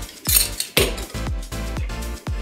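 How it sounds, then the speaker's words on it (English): A kitchen knife chops fresh parsley and basil on a board, about seven crisp, evenly spaced knocks, close and fairly loud with no talking. "So I'm just gonna chop these up"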